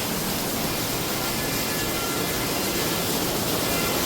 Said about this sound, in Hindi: बहुत तकड़ी बारिश आ गई